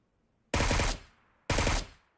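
Automatic gunfire in the PUBG Mobile video game on the Sanhok map: two loud, close bursts of rapid shots, each lasting about half a second, separated by a short silence.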